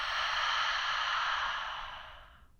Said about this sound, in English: Big open mouth exhale.